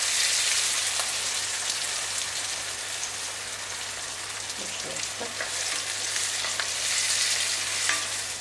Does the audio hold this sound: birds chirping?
no